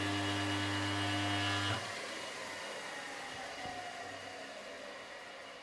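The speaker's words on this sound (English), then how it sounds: "with that motor connected, let's give it a first check of the spindle" A surface grinder spindle, just serviced with new bearings and oiled, hums loud and steady with strong tonal harmonics, then cuts off abruptly near two seconds and leaves a fading broadband whir as it spins down.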